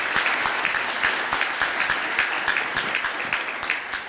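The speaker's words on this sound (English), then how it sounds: "Let's give them a round of applause." A crowd at a memorial celebration of life claps in sustained, dense applause, loud and even for several seconds, with no voices over it.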